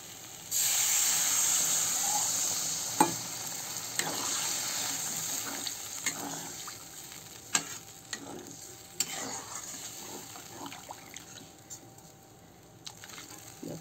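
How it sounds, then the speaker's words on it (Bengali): Liquid poured into a pan of sautéed potato and soybean chunk curry sets off a loud hissing sizzle that slowly settles, followed by scattered spoon taps and stirring clatter against the pan, no talking. "এই যে এখন আমি এতে রসা দিয়ে দেবো"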